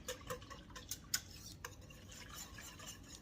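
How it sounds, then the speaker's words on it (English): A whisk works clam chowder thickened with cornstarch in a pot, a faint, steady scraping and ticking with a few light metallic taps. "We're gonna whisk this"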